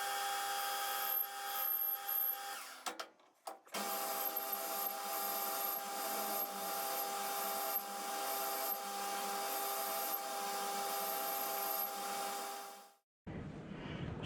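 A floating reamer in a holder cuts a hole on a machine, giving a steady, loud whir with a high whine that runs for about twelve seconds. It breaks off briefly near the start, then ends abruptly, leaving quieter noise behind.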